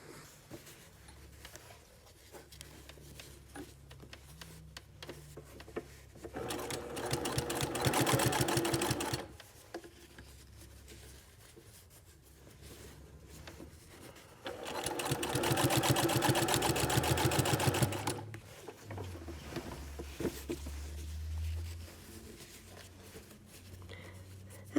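A sewing machine stitches a casual shirt hem in two steady runs of a few seconds each, separated by quiet pauses, with a faint low background hum throughout and no talking.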